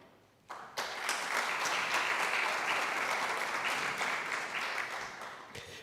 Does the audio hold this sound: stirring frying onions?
no